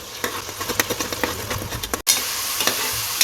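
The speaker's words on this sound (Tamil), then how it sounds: "இது நல்லா வதக்கி விட்டுக்கலாம்" Ground onion paste sautés in a pan for beef bone paya, sizzling and frying continuously while a spoon stirs and scrapes with sharp irregular clicks; no talking.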